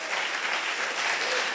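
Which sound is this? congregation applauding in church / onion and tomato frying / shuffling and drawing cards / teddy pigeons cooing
congregation applauding in church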